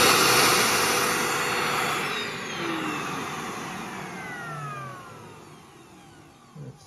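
A carpet steam cleaner's vacuum motor roars steadily, then gradually winds down with falling whines as it spins to a stop, ending in a brief clunk.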